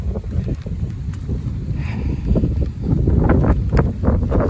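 Gusty wind buffets the microphone throughout an outdoor neighborhood walk, a steady low roar that swells louder in the second half, with no talking.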